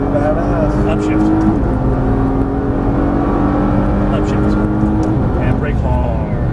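Car engine revving hard under acceleration on a track, a loud, close, sustained roar with rising pitch through the gears and a shift break, with voices faintly underneath.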